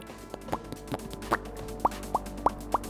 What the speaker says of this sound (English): Oh, it's that sound again. The popping is unbearable.